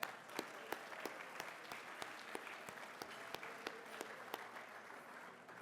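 Dinner guests at a city address give the serving staff a round of applause, a quiet, somewhat distant patter of many hands with scattered sharper individual claps, sustained evenly without speech.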